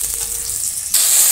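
Pumpkin slices fry in a pan with a close, steady sizzle that grows suddenly louder and brighter partway through, alone with no talking.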